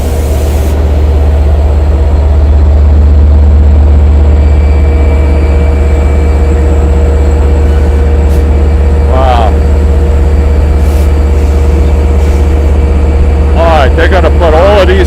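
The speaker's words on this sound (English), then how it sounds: "4 Kawasaki C3 bilevels and locomotive DE 30 AC" Long Island Rail Road train at Speonk idles nearby, a DE30AC diesel locomotive with four Kawasaki C3 bilevel cars, giving a loud constant low rumble throughout, with a few brief voice-like sounds toward the end.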